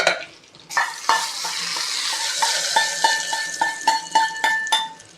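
Curry leaves crackle and sizzle in hot oil for a village-style country chicken kuzhambu with the stove just switched off. A dense, bright hiss holds steady, broken by repeated small metallic clinks and pops.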